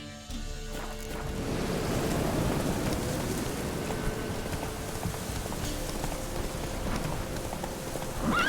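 Hooves of the horse Roach pound in a steady gallop in The Witcher 3, a continuous rumbling clatter at close range that runs the whole stretch under a wash of rain-like noise, with no talk.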